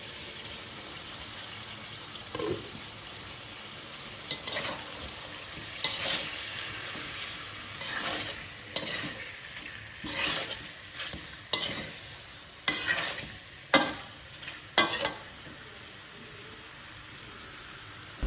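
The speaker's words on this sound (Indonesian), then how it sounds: "Tunggu ayamnya beberapa saat agar si ayamnya ini matang dengan minyak ya." Chicken pieces frying in oil in a covered home-kitchen pan, a steady soft sizzle with intermittent louder bursts and clattering stirs spaced every second or two, no voices.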